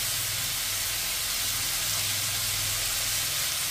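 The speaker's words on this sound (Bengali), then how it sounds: "এবার এটাকে ভালো করে লাল লাল করে ভেজে কষিয়ে নেব।" Potatoes frying in a pan for alu posto make a dense, constant sizzle and hiss, loud and close throughout, with no one speaking.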